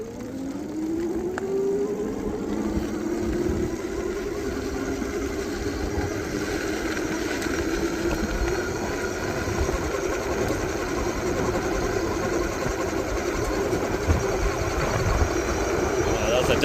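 A Voltcycle electric bike motor whirs steadily on a test ride, a continuous close drone that rises in pitch as it gets going and carries on under wind rush, with a voice talking over it.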